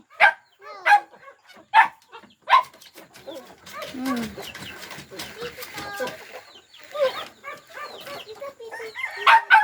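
Chickens in Sariaya, Quezon cluck and call in sharp bursts, with a dog barking now and then. Faint voices murmur in the background between the loud animal calls.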